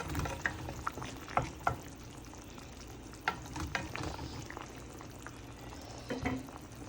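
Rohu fish curry with flat beans, potatoes and mixed ripe and unripe tomatoes simmers in a pan, a faint low bubbling hiss broken by scattered soft pops and occasional stirring clicks, close and quiet.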